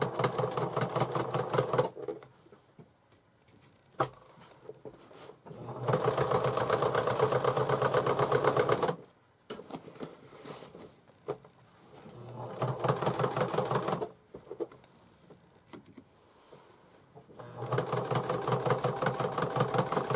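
A sewing machine stitches fabric for a bag in several steady, close runs of rapid mechanical whirring, separated by pauses where a person talks quietly.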